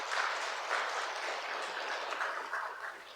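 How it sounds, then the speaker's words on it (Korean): A church congregation applauds steadily, a dense wash of clapping hands in a large room that holds for several seconds without voices. "찬양대가 앞장서니까 우리 박수 한번 보내겠습니다."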